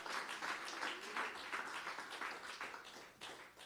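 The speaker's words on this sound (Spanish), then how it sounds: "Dele ese aplauso fuerte al Señor en esta noche." A church congregation applauds during an evening prayer service, the clapping dense and continuous throughout with a steady, rippling texture at moderate distance.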